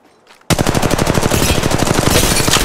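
Rapid automatic gunfire from a weapon in the mobile battle royale game Apex Legends Mobile, starting abruptly after a near-silent moment and continuing as a loud, dense stream of shots.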